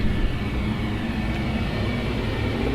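A Concorde taxis toward the gate at Heathrow in Flight Simulator X, a steady, loud, low engine rumble and roar that holds without a break throughout.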